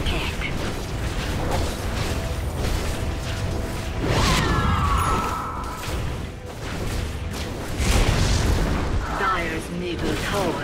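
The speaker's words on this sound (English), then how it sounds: "Middle tower has fallen." Dota 2 battle noise as a middle tower comes under attack and falls: a dense, continuous wash of mechanical clanks, whooshes, impacts and booms, with an announcer-style voice speaking over the action.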